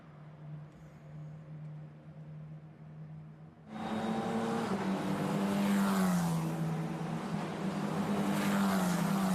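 Formula 4 single-seaters race through the fast corners of the Jeddah street circuit. After a quiet, distant engine hum, a loud high-revving car roars past up close, its pitch rising and falling through gear changes until the end.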